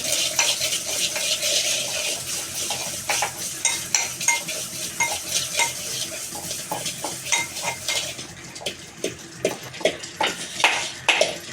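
Dried red chillies and salt fry in a pan, with continuous crackling sizzle, clinks of a utensil against metal, and steady stirring scrapes close by.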